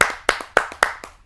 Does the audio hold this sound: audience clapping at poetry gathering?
yes